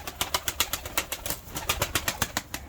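Released tumbler pigeons beat their wings in quick, regular bursts of flapping close by, one flurry after another with no pause, while faint cooing and bird noise sit underneath.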